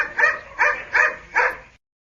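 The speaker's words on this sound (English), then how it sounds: "Where is the dog?" A dog barks four times in an even rhythm, each short bark clear and fairly close, with nothing else heard between the barks.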